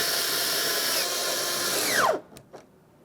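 A power drill runs steadily, tightening 7mm mounting bolts on the rear door of a Ford F-150 pickup, then winds down sharply, followed by a couple of faint clicks.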